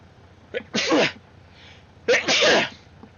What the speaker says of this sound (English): You do sound quite muffled, by the way, when you just sneezed.